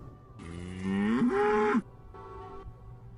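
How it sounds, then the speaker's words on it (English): In The Witcher video game, a cow gives a loud, close, drawn-out moo that rises and then breaks off. A shorter, fainter low call follows over quiet background ambience. "You're not likely to ever see another cow like this one."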